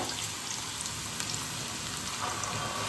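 Poppy seed paste sizzles steadily in a frying pan with ridge gourd and onion, a soft continuous crackling hiss at low volume throughout.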